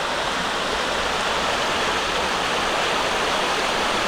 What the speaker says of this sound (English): Just crossing the River Gretna.